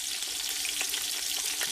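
Pig's knuckles frying in a pot of oil for Sunday meat gravy, a loud, close, continuous crackling sizzle with no voices over it.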